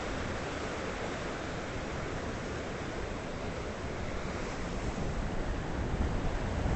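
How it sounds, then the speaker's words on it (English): Steady roar of ocean surf breaking at a jetty, broad and continuous, swelling slightly louder toward the end, with no voices. "I think it's the sound of the waves that's more awesome even than what we're looking at"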